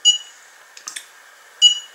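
A Kokoon CO2 sensor alarm sounds two short, bright electronic beeps about 1.5 seconds apart, close and clear, with faint handling clicks between them in a quiet room.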